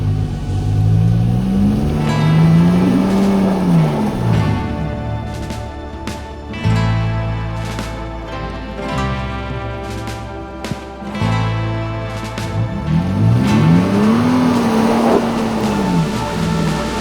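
A car engine in a muddy off-road setting revs and rises in pitch several times, a loud close drone that swells and drops as the vehicle pushes into the mud, with no talking.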